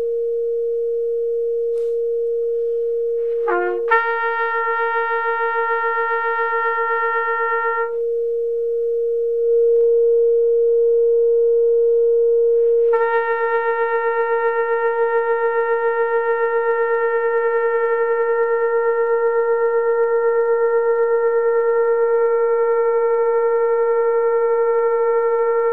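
Trumpet playing an out-of-tune note against a steady electronic reference tone. The reference hums throughout while the trumpet enters twice and holds long notes over it, loud and close.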